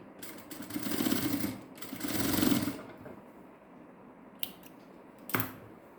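Stitching a diamond necklace design: two short runs of steady, whirring stitching about a second each, followed by a couple of isolated sharp clicks, with no talking.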